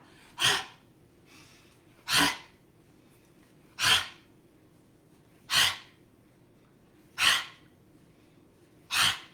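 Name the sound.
loud exhale during yoga squat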